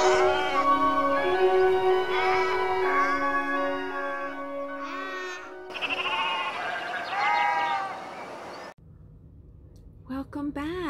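Sheep bleat repeatedly at close range, several wavering, drawn-out calls rising over a steady rumble of background noise, with one loud burst after a brief drop in level near the end.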